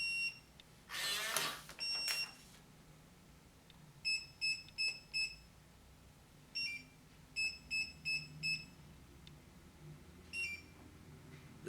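Short electronic beeps from a keypad deadbolt lock during programming: a single beep, then quick groups of four high tones, a lone beep, another group, and a final beep, with clicks and quiet background.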